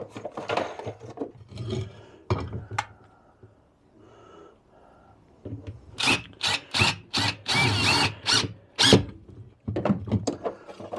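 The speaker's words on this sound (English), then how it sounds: "impact driver." Screws being driven into wood with an impact driver while building narrowboat stern steps, in short loud hammering bursts separated by pauses, close by and alone.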